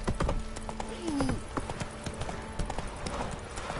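Roach the horse trots along in The Witcher 3, with rhythmic clip-clop hoofbeats close by and a brief whinny-like tone partway through.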